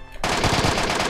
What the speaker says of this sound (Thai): เสียงปืนด้านหลัง